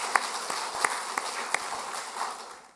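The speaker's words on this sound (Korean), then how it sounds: "감사의 박수 하도록 하겠습니다" A church congregation claps in thanks during a Sunday service, scattered hand claps spread across a couple of seconds at moderate distance, sparse and uneven rather than a dense ovation.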